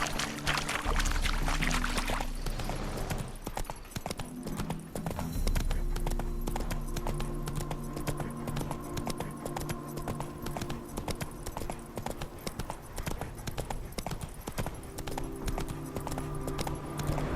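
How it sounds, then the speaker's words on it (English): Steady, rhythmic clip-clop of a horse's hooves in The Witcher 3 over a constant low hum and droning background, continuing throughout at a moderate distance. "Spooking my horse."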